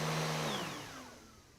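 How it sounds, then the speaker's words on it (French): Vacuum cleaner in a cartoon household scene, a loud whirring drone that winds down and fades away over a second or two, no talking. "je dois passer l'aspirateur"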